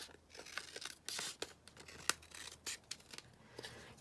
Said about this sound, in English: So I'm just going to trim it down here on this side.